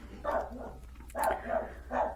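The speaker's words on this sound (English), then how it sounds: "she does have a big bark to her" A small dog barking in the background indoors, about four sharp barks in an uneven rhythm, moderately loud and somewhat distant, with no talk over them.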